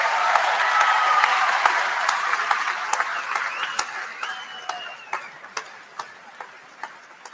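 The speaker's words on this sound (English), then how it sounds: "let's give them a round of applause" Graduation audience at a university spring commencement claps in a broad, fairly distant wash that gradually thins out into a handful of scattered individual claps toward the end.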